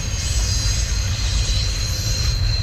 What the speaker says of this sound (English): Train whizzing by here.